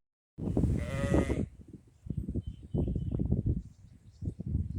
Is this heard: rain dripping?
no